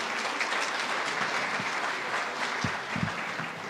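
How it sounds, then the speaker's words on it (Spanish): Strong applause from an audience at a university event in Mexico, a dense steady clatter of many hands lasting throughout at close range, with no talk over it. "Les pido un fuerte aplauso"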